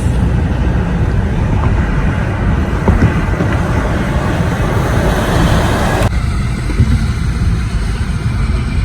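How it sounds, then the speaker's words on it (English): Loud, constant roaring rush of wind and road noise on a bridge, steady throughout, the high hiss dropping away abruptly near the end. "It's so windy."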